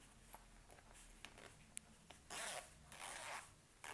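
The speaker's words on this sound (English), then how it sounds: "Here's the zipper." A purse zipper pulled in a few short rasps, then two longer, louder zips, close up in a quiet room.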